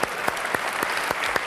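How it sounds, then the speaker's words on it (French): An audience claps steadily, a crisp patter of many hands that is fairly close and loud and has no voices over it. "C'est moi qui vous applaudis."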